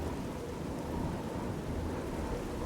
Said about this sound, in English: It's a little rainy out here for a duel tonight,